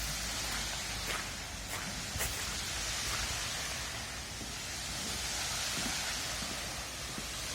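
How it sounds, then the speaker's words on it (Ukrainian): Park fountains in Lublin running, a dense steady wash of splashing water hiss that fills the whole clip with no talking. "Гарно, фонтани працюють."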